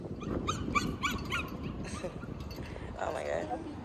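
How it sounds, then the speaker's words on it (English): Someone's dog off in the distance toward a park yips, barks and whimpers in quick bursts under ongoing outdoor chatter, with a higher whine near the end. "Somebody's dog over there."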